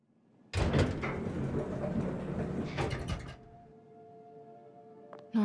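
Heavy fire doors slam shut inside Norman Osborn's mansion in Marvel's Spider-Man Remastered, a loud sliding metallic rumble lasting about three seconds, then a lingering low hum and a sharp click at the end.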